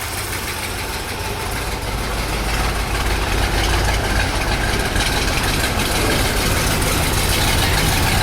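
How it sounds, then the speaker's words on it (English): Steady close-up idle of a 1964 Corvette 365hp engine after dropping from fast idle, a constant low rumble with slight knocking texture, loud and uninterrupted, no voices. "She's down at idle."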